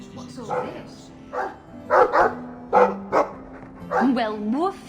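In the Dragon Age 2 video game, a dog gives several short barks and yips in quick bursts, close and fairly loud, mixed with game speech.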